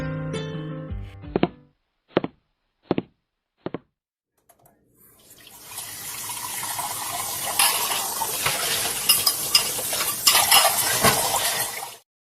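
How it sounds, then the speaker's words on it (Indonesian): A few sharp clinks of dishes come first, then a kitchen sink tap runs in a steady hiss of water for several seconds before shutting off. "menyalakan wastafel dan mulai mencuci piring"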